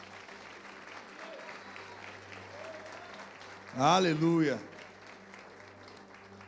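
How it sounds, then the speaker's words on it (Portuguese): A church congregation breaks into a brief, loud burst of clapping and cheering during a Portuguese-language sermon, rising suddenly and fading after about a second, with a preacher's voice and sustained music underneath. "Aplauda o Senhor Jesus."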